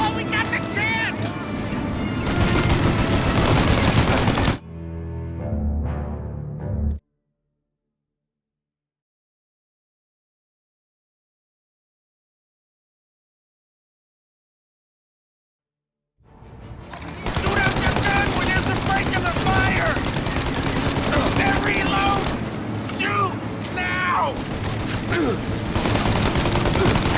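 Bursts of machine-gun and rifle fire crackle in a Mafia Definitive Edition shootout, loud and dense for several seconds, then the sound cuts out completely before the heavy gunfire resumes, with shouting voices mixed in.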